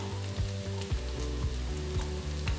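Cashews and rice frying and sizzling in oil in a pan, a steady loud crackle with rhythmic scraping and stirring strokes throughout.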